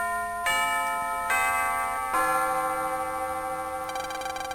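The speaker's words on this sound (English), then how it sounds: "And that's the bell." A school bell chimes in the Mega Man Battle Network game, a bright synthesized melody of four sustained tonal notes struck about a second apart, ringing clearly with no voices.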